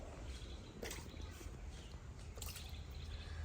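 Water splashing and dripping as whole pomfret fish are rinsed clean for a stuffed tawa-fried pomfret, a steady noisy wash with a few sharper splashes, close by and alone.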